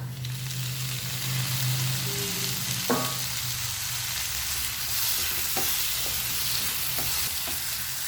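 Chopped tomatoes fry with ground spices in a pan for egg biryani, giving a continuous close sizzle broken by occasional scraping and clinking as the mixture is stirred.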